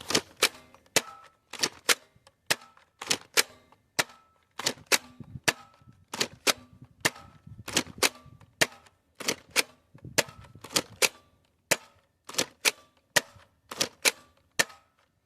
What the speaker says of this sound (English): First 10 nitro shot darts will be just regular firing.